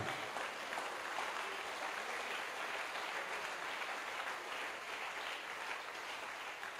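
Congregation applause in a Pentecostal church service, a steady broadband wash of many hands clapping that holds at moderate loudness for the full stretch without letting up, no voices standing out.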